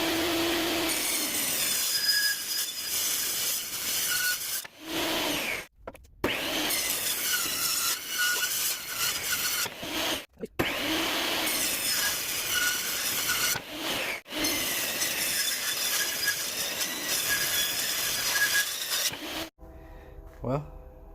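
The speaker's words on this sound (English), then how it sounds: "to the lovely table saw, and we're going to do a couple strips out of the zebra wood" Table saw ripping strips of zebra wood, long continuous grinding rasps of blade through hardwood, separated by brief quiet gaps between passes, close and loud, ending with the motor spinning down.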